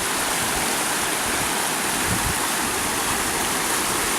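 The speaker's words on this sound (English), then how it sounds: "See, this is pretty fast for this part of the river." Fast-flowing Cowlitz River, swollen with snowmelt runoff from Mount Rainier, rushes in a steady, loud, unbroken roar close by.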